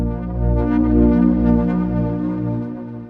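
Serum 2 synth keys layered with the Organics Shush 2 noise: a sustained chord with a breathy hiss layer over it, steady and alone with no talking.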